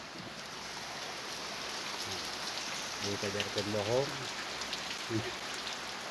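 Steady rain patters on a surface throughout at a house under renovation in Pasirjati village, with a person speaking briefly over it in the middle.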